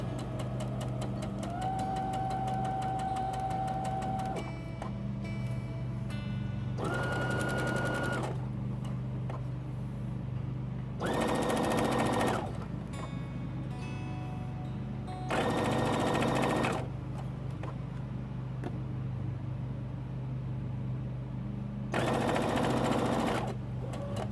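A sewing machine backstitches a pillowcase dress from Simplicity pattern A2228, running in several short loud bursts of rapid stitching separated by pauses with a steady low hum underneath.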